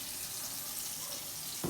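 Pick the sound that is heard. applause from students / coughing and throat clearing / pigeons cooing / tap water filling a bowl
tap water filling a bowl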